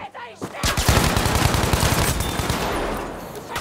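Rapid automatic gunfire fills a Battlefield V match, dense bursts of shots rattling close and loud for about three seconds before thinning into a rumbling tail.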